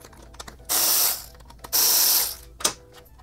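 A ratchet wrench backs out 10mm head fasteners from the tail light of a 2021+ Honda CRF motorcycle, giving two long, loud bursts of rapid clicking followed by a short sharp click, with no talking.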